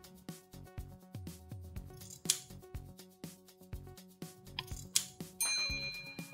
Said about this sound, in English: Take this and cut the corner.